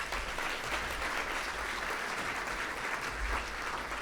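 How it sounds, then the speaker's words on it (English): Round of applause from a large audience at a regional business event, dense continuous clapping sustained for several seconds, steady and even in a big hall. "Let's give them a big round of applause."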